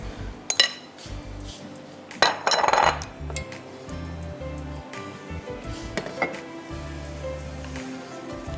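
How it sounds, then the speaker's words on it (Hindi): A spoon clinks and scrapes against a metal pot while beef haleem ingredients of boiled lentils, rice, wheat, spices, yogurt and water are stirred together, a run of irregular metallic knocks and rattles, close and fairly quiet. "अच्छी तरह इसको मिक्स कीजिए।"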